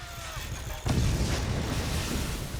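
A sudden deep boom from an explosion in the game Forts cuts in, followed by a sustained low rumble and noisy roar that stays loud for a couple of seconds.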